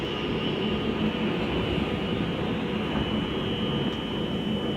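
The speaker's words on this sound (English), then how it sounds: "And as this Pendolino boards into Warrington Quay now" An Avanti West Coast Class 390 Pendolino electric train rolls into Warrington Bank Quay station with a steady, moderately loud rumble and hum. A faint high whine runs on top throughout, and no one speaks.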